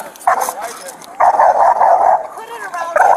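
A pit bull barks hard and repeatedly in loud, close bursts during a police encounter, with frantic voices talking over and between the barks.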